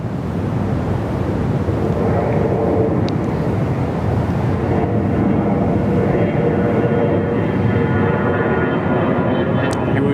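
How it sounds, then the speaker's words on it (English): A Fokker 100 airliner passes at Perth Airport with a loud, steady jet roar that holds throughout, along with some wind noise. "You would be, of course, mistaken thinking we were in Qantas 717 town, but no, Fokker 100"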